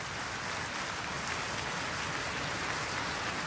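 Dense, steady applause fills a concert hall in Iceland as the audience calls pianist Nobuyuki Tsujii back for an encore after an orchestral performance. It is a continuous wash of clapping with no speech.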